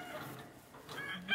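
Chickens cluck close by in short, scattered calls, with a sharper squawk near the end and a low farmyard background.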